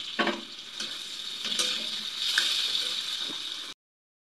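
Chopped potatoes fry in a pan with a steady close sizzle and a few light utensil ticks, lasting a few seconds before cutting off abruptly.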